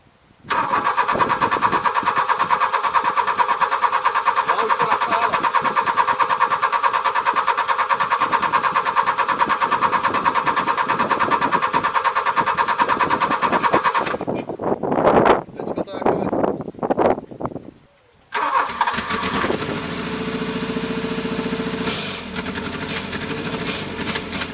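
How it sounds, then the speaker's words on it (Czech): A VW Golf MK2 GTD diesel engine turns over and catches, then runs roughly on only three cylinders, a loud close uneven clatter that drops out briefly before settling into a rough idle. "podařilo nastartovat, jde teda na tři válce"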